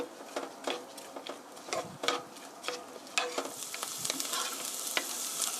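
Garlic is stir-fried in a pan for broccoli spaghetti, with quick repeated scrapes and stirring clatters over a light sizzle that grows brighter toward the end. The sound is close, with no talking.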